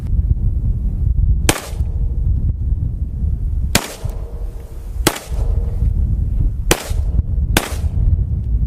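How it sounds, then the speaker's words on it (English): Desert Eagle .50 AE pistol firing hollow point rounds into dirt outdoors: five loud, sharp gunshots spaced about a second or more apart, each a sudden broadband crack over steady background rumble. "We're shooting some hollow points as well, as you guys can see."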